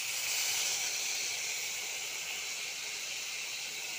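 Hot cooked dal poured into a pan with fried capsicum makes a loud, continuous, even hiss that fills the whole moment with no other sounds.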